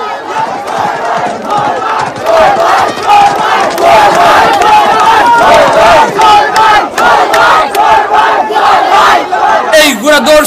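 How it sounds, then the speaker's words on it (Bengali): A large outdoor crowd at a horse race in Sunamganj roars and cheers as the winning horse crosses the finish line. A loud, sustained wall of voices holds throughout, with no speech standing out. "মাঠ জুড়ে উল্লাস আর করতালিতে মুখরিত সুনামগঞ্জের আকাশ বাতাস।"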